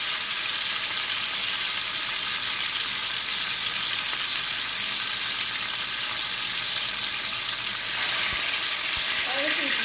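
Jamaican brown stew chicken frying in a pan on the stove, a steady loud sizzle and crackle of hot oil running throughout with faint stirring near the end.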